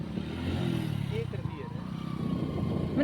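A motorcycle engine runs steadily close by in a rural village setting, a continuous low rumble that persists throughout while people talk loudly over it.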